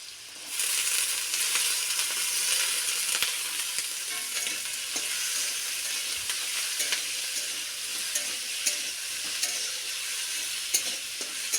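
Potatoes fry in oil tempered with cumin and chilli, a constant bright sizzle close by with occasional clicks and scrapes of a spatula stirring, and no talking.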